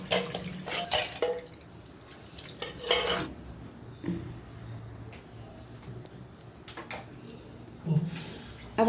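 Dishes, pots and pans are washed in a home kitchen, with irregular clinks and clatters of steel utensils, light scraping and running water, close by and moderately quiet.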